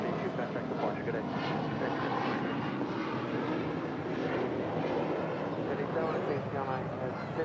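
An Emirates Airbus A380 airliner roars on takeoff from runway 25 right at LAX, a steady broad jet rumble that holds continuously at a distance, with no pauses.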